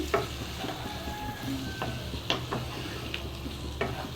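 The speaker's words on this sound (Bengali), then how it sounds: "টমেটোটা ভালো করে একেবারে আলুর সঙ্গে মশলার সাথে মেখে মানে কষিয়ে নিচ্ছি" Tomato being sautéed with potatoes and spices for a potato and egg curry, a close steady sizzle with repeated spatula scrapes and knocks against the pan, no voices.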